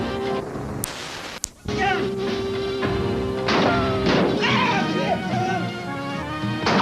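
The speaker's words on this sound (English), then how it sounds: "The man opens fire" Gunfire from a man shooting at Virginia state troopers serving a warrant, staged as a police re-enactment: a couple of sharp cracks early on, then crashing, clattering action under a steady music bed.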